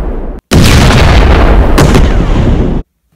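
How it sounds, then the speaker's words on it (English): Mega Missile explosions erupt as a sudden, very loud booming blast that holds for over two seconds with a second punch in the middle, then cuts off sharply into silence. "Now for the classic Mega Missile explosions."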